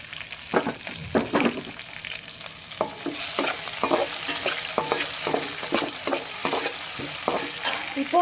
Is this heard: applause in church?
no